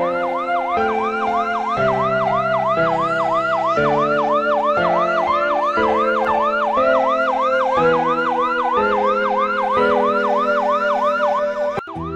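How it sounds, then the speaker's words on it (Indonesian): An ambulance siren at a crossroads accident wails loudly and continuously in a fast rising and falling two-tone cycle, close and alone throughout. "Kamu telepon rumah sakit, suruh datangin ambulan."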